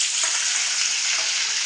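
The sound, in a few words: onions frying in hot oil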